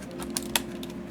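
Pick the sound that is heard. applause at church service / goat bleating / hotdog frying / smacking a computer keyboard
smacking a computer keyboard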